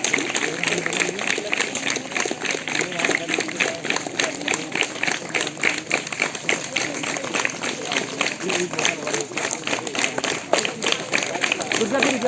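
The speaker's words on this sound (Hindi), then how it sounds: "मसाल दौड़ प्रारंभ। तालियां जोर से।" Children clap together at the start of a torch relay race during a block-level school sports and cultural competition, a steady, dense patter of many hands that runs on continuously with voices of the crowd mixed in.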